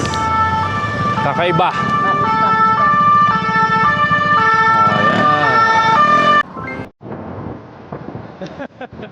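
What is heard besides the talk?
French police siren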